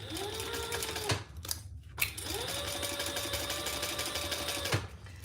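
A sewing machine stitches a quarter-inch seam in two steady runs of rapid mechanical whirring, broken by a short pause with a clack, close and clear with no talking.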